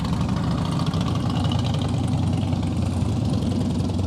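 Motorcycle engine idling nearby, a steady low rumbling chug that holds constant throughout with no voices.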